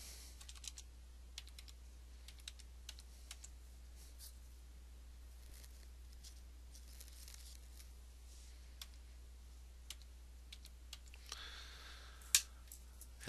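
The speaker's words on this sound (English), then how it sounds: "Typing in the last name, and now we can create a login name." Faint, steady computer keyboard typing as a name and login are entered while setting up a hosting account, with soft scattered clicks and one sharper tap near the end, no voices.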